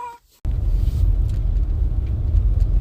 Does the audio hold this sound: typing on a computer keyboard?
no